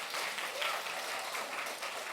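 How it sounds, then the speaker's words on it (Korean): A church congregation applauds children during a Sunday service, a soft, even wash of many hands clapping, fairly distant and steady throughout. "박수해 주세요."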